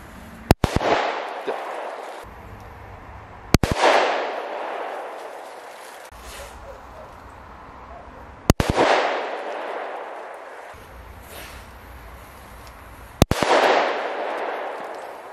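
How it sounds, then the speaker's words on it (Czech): La Bomba firecrackers set off against a tree stump, four sharp loud bangs spaced a few seconds apart, each followed by a crackling, decaying roar of debris and echo, with no talking. "teďko máme sestřih další labombek a potom půjdeme na velký petardy"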